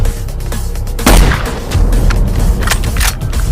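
A sniper rifle fires at a target 900 yards away: one loud, sharp report with a booming echo that trails off into a low rumble.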